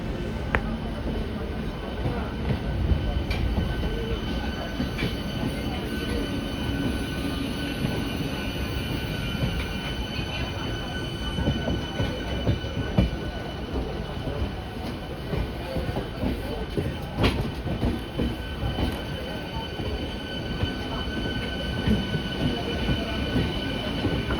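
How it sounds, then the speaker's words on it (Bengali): A pink-face ICF EMU Howrah–Panskura local train on the South Eastern Railway rumbles past close by, wheels clattering and squealing in a loud continuous roar that holds steady throughout. "সামনে থেকে পিঙ্ক ফেস ICF EMU নিয়ে আসছে হাওড়া পাঁশকুড়া লোকাল"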